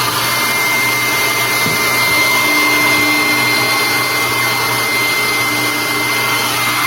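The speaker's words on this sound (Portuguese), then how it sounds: "Esse secador aqui é bem fraquinho, então ele dá apenas uma acelerada no processo." A weak hair dryer blowing to defrost a Brastemp frost-free inverter duplex refrigerator gives a steady, loud, unbroken whirring drone with a faint high whine, running alone without pause.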